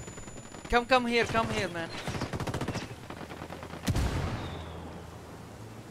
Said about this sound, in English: the mortar is hitting us.